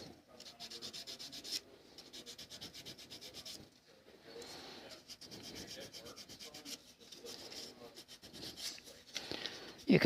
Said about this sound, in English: I am going to take that sandpaper